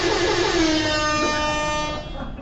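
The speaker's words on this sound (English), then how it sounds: "That's the air horn." A loud air horn blares in one sustained, brassy blast for about two seconds, then cuts off, leaving a quieter background.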